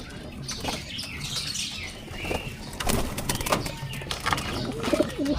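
Racing pigeons being released on a road training toss burst into wing flapping, a flurry of close wingbeats and fluttering with some faint cooing, no talk.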